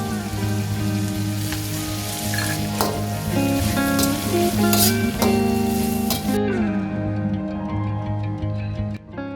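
Sliced onions frying in a hot pan give a steady, close, continuous sizzle with crackling bursts, over faint tonal music in the background and no talking.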